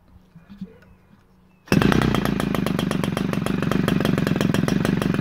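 An OS 160 MAX FX model aircraft engine converted to run on gasoline fires up after a quiet moment and then runs at a loud, steady buzzing rhythm.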